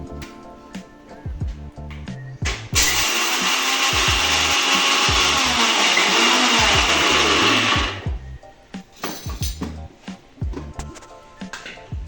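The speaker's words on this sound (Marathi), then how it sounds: "पहिल्यांदा शेंगदाणे मिक्सरला बारीक करून घेऊ" An electric mixer grinder whirs loudly for several seconds, coarsely grinding peanuts for sabudana khichadi in a home kitchen, with clicks and handling knocks before and after the run.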